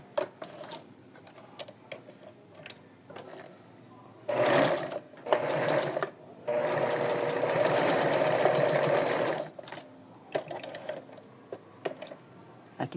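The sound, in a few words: sewing machine stitching doll dress back and shoulder pieces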